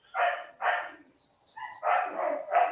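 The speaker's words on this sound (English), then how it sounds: "she can't reach him, so she's barking at him." A puppy barks at a cat in a run of several short yapping bursts, fairly close and loud, with brief pauses between them and faint background sound.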